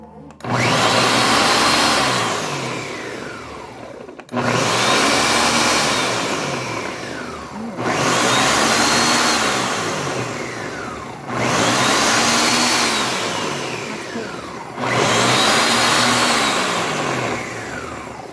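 A kitchen blender, used for dough and smoothies, runs loud and close in five long bursts, stopping briefly between each one and starting again with a rising whine.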